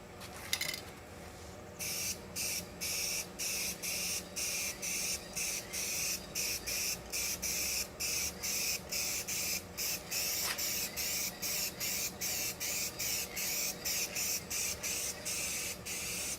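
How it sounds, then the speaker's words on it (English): Spray paint gun hisses in rapid regular bursts while applying paint over fiberglass repair on a shuttle bus RV conversion, close and steady, with no talking. "I knew I was going to have to blow a little paint that direction"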